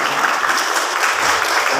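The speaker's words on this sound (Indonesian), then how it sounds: "tepuk tangan buat kelompok pertama" Applause from an audience at a youth Isra Miraj quiz competition, a steady dense clapping that holds loud and even for about two seconds.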